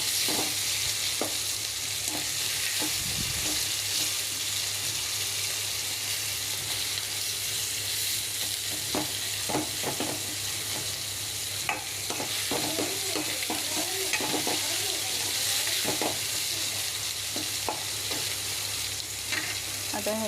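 Onions and tomatoes frying for pav bhaji, with a steady sizzle and a spoon or spatula stirring and scraping the pan in irregular clinks, close and continuous without talk.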